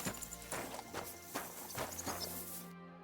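Horse hooves clip-clop at a walking pace in Kingdom Come Deliverance II, about five evenly spaced hoof hits over a steady ambient music bed, close and clear, ending abruptly.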